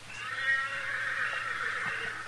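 A horse neighs far off in the distance, a faint, drawn-out whinny rising over a low, steady outdoor background with no voices, in a Western radio drama set around Dodge.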